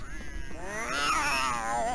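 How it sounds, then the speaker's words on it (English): A cat meows in the Harry Potter and the Philosopher's Stone video game, drawn-out wavering cries rising and falling, fairly close and clear over a low background hum, with no talking. "the cat's after finding me"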